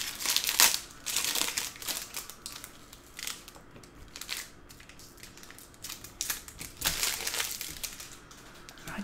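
Topps Pristine MLB trading card packs crinkle and rustle as they are handled, with close, irregular bursts of foil crackling that come and go.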